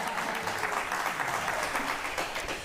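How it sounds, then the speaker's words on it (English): Studio audience applause on a talk show, a dense, continuous wash of clapping held at an even level throughout, without voices on top. "Who led that applause by the audience?"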